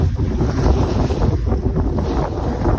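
Strong wind roars continuously across the microphone by the sea ahead of an approaching typhoon, with a low rumbling buffet of sea and surf beneath it.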